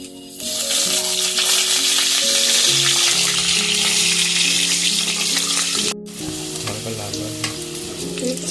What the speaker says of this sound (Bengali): ফোড়নটা যখন লাল লাল হয়ে যাবে, কেটে রাখা আলু পিসটা আমরা দিয়ে দিলাম।